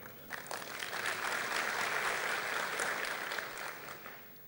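Audience applause fills a hall during a business community gathering, a steady wash of many hands clapping that swells and holds for several seconds before tapering, moderately loud with no talk over it.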